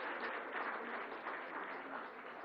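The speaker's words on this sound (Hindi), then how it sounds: "तालियों के साथ स्वागत कीजिए।" Audience at the Agenda Aajtak event applauding to welcome Delhi Chief Minister Arvind Kejriwal, a steady, even wash of clapping heard faintly at a distance and without pause.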